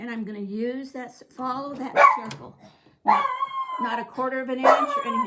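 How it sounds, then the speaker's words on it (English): A dog barks in the background of a room while a person keeps talking over it, the barks mixing with the speech. "That's my dog again."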